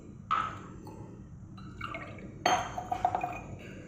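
Cupfuls of water pour into a gram flour and yogurt batter for Gujarati khandvi: a splash, a brief trickle, then a stronger pour with gurgling drips.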